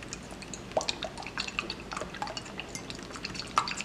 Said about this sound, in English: Then we gotta put some water in there.